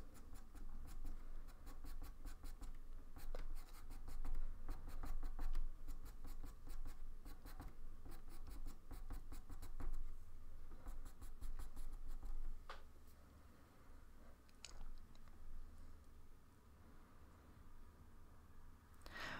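Pastel sticks, including beige for highlights, scratch across Clairefontaine Pastelmat paper while finishing a snowy owl drawing, making close, steady, fine scraping strokes in quick rhythmic flurries with short pauses and no talking.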